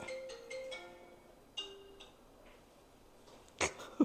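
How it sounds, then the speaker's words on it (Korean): A phone alarm ringtone plays a faint repeating electronic melody of short tonal notes in a quiet room, followed by a couple of brief louder bumps. "뭐야, 알람 일어나는 시간이야?"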